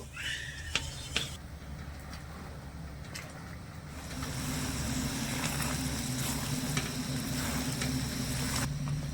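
Sugar syrup simmers and thickens in a pan while making Mathura-style pera sandesh, a dense bubbling sizzle that grows louder and fuller midway, with a few clinks of a spoon at the start and no speech.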